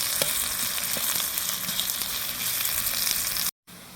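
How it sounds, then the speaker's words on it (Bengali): Onions sizzle and crackle in oil with cumin in a hot pan, a steady frying hiss with occasional stirring clicks, followed by a brief dropout near the end. "এখন আমি পেঁয়াজটাকে হালকাভাবে নরম করে একটু ভেজে নেব।"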